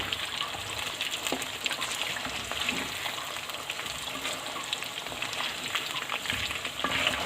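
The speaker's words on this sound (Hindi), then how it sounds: "चलें अब इनको डाल के सबको हम डीप फ्राई कर लेते हैं।" Chicken pieces deep frying in hot oil, a steady dense sizzle and crackle with small pops, close and continuous, with no talk.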